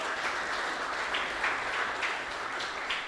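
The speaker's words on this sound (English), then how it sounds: "round of applause for Tyson" Steady applause from an audience at a sports club awards presentation, continuous clapping at moderate volume with no voices over it.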